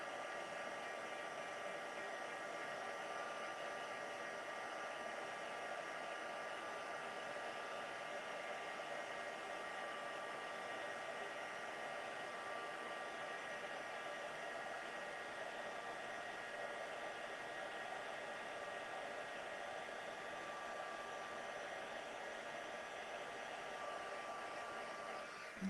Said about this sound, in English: I can heat emboss straight on my mat.